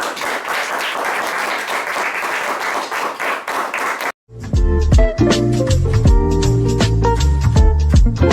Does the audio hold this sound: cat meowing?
no